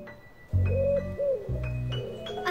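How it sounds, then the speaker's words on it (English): Soft, low cooing calls repeat in a slow rhythm, a pigeon's throaty hoots, close and clear with a quiet background. "A pigeon cooing."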